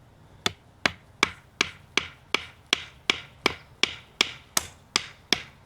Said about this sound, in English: we're going to get ourselves another little whacking stick right here, a little batoner